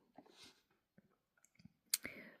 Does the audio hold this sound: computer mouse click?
yes